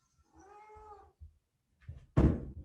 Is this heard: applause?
no